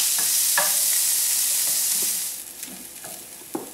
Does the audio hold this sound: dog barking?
no